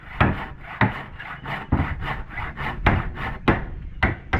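A hand saw rasps through a hard timber plank during wooden boat building, with repeated strokes in a steady back-and-forth rhythm, close and fairly loud, with no talk.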